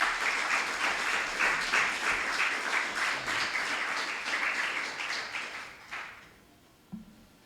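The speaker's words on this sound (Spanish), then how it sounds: "Dale un aplauso, hermano, al Señor." A church congregation gives a sustained round of applause, dense and fairly loud, that tapers off, followed by a couple of isolated thumps.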